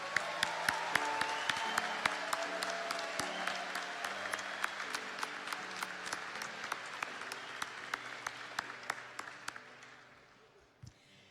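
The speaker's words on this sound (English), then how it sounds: "Please join me in another round of applause congratulating our master's graduates." Audience applause for master's graduates at a spring university convocation ceremony, a large hall of steady clapping that carries on for about ten seconds before fading and thinning out at the end.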